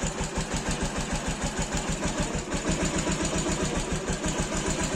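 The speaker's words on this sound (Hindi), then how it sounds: "ये देखो बाइक स्टार्ट हो गया, स्मूथ है बाइक" A modified Bajaj Pulsar 150 UG3 motorcycle engine idles steadily after a self-start, with an even, throbbing rhythm and a faint ticking knock, running alone without any talking.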